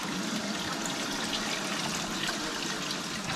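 Steady water rushes and trickles through gold prospecting equipment at a cold outdoor campsite, a continuous broadband wash with no talk over it.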